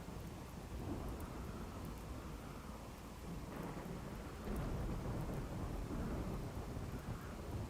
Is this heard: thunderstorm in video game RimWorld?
yes